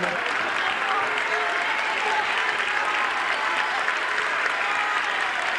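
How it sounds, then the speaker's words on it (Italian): An audience in a tent theatre applauds a Chinese dragon costume at a 1983 carnival in Caorle, a loud, continuous wash of clapping from a large crowd, unbroken and even from start to finish. "un applauso allora per il nostro drago cinese"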